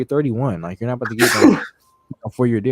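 A single loud sneeze bursts out in the middle of a conversation, with people talking just before and right after it.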